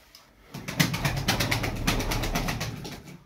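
Soft, repeated cooing from several pigeons close by, overlapping in a steady murmur with faint rustling and a few light wing flaps.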